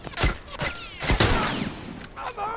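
Rifle fire rings out in a deathmatch in The Last of Us Remastered, a few sharp close shots in quick succession with echoing tails, while game voices sound faintly underneath.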